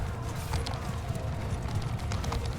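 Horses in the medieval battle game Mount & Blade II: Bannerlord, a continuous rumble of hooves with galloping beats under the noise of battle, moderately loud and with no talk over it.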